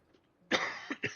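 A single sharp cough up close, followed by two smaller throaty bursts.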